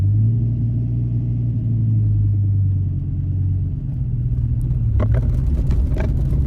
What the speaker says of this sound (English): All right, let's drive a Viper.